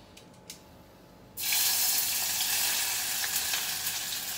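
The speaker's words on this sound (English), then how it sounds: "So we need to fry all the things." Ingredients hit hot leftover fish oil with a sudden loud burst of sizzling frying that stays steady and close, following a few faint clicks of near silence.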